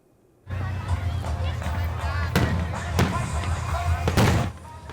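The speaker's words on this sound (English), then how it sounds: "Fireworks lit up the night sky to celebrate the nation's 248th birthday." Fireworks booming over a steady rumble of crowd noise at night for the U.S. 248th Independence Day, with a few sharp, loud bursts spaced a second or so apart.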